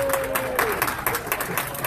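A comedy club audience gives a short round of applause, dense clapping with a brief whistle cutting through early on.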